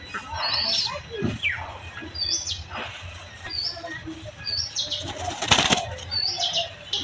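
Wings flap in several sharp bursts nearby, a pigeon taking off and fluttering, with faint chirps in between.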